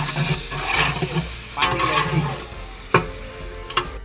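Mint, ginger and garlic masala sautéed for chicken biryani; a low sizzle runs under several scraping stirs and a couple of sharp utensil knocks against the vessel, fairly close, with no talking.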